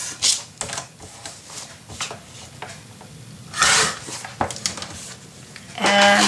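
Scissors cutting a sheet of paper for a handmade mini album: several short, close crisp snips and rustles at irregular intervals, with a paper shuffle near the end and no talk.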